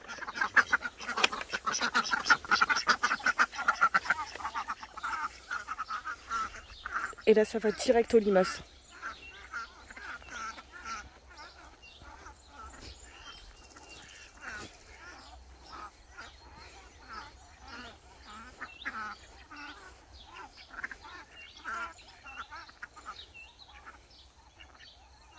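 Indian runner ducks quack in a busy cluster early on, then keep up scattered, quieter quacks and rustling while a person talks nearby.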